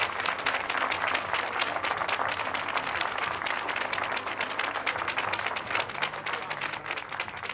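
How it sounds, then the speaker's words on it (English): A crowd at an archery tournament final applauds medalists steadily, a dense and even patter of many hands clapping that keeps going without a break. "please give a warm round of applause for our medalists."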